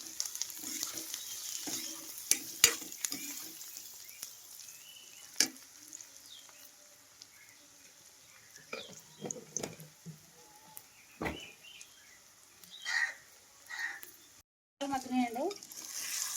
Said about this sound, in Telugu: కొంచెం సాల్ట్ వేసుకుంటే తొందరగా ఉల్లిపాయలు మగ్గుతాయి.